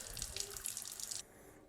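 Water runs from an open faucet during a DIY electric hot water heater replacement, a soft steady splashing stream that cuts off abruptly near the end, leaving faint room noise.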